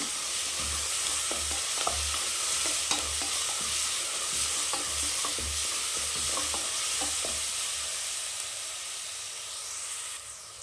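Onions sautéing with ginger and garlic in a pan for mushroom biryani: a continuous hissing sizzle with rhythmic soft knocks of stirring, close by, easing off toward the end.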